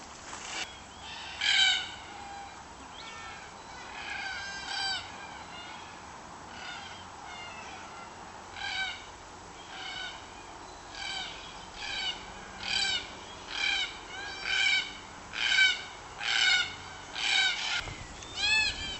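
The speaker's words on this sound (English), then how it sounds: "All around me, Biluwarra, red-tailed black cockatoos on the Kulaluk Lease." Red-tailed black cockatoos call across the Kulaluk Lease, a series of harsh, rasping cries that repeat at a fairly regular rhythm and grow louder and more frequent towards the end, heard alone and at moderate distance.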